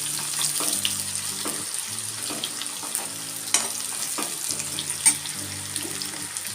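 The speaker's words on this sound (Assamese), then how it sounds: "পিঁয়াজ, তেজপাত। এইখিনি ৰঙচুৱাকৈ অলপ ভাজি লওঁ।" Onions and bay leaves frying in a pan for a mutton curry, giving a steady close sizzle with occasional clinks and scrapes of stirring, no talk.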